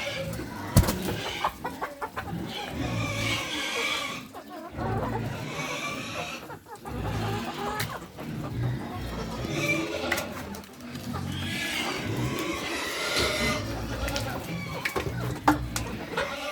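A flock of impatient chickens clucking and squawking noisily around feeding time at breakfast, busy and continuous, while a person talks over them.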